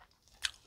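A single short crunchy bite into sauce-dipped coffee chicken, close and fairly quiet, heard alone.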